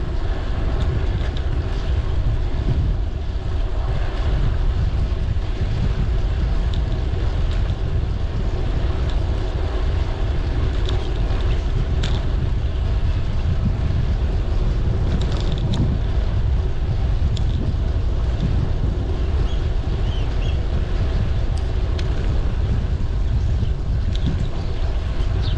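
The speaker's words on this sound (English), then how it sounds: "There's just a gentle headwind at the moment" Steady wind roars across the microphone on a road bike ride around Kings Cliffe, a gentle headwind of about 10 mph making a constant low, buffeting rush with no voices.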